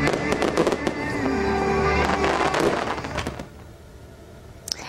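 Dense burst of fireworks at a Japanese summer display, rapid crackling and popping bangs in close succession, loud for the first few seconds and then thinning to scattered fainter pops with a sharp report near the end.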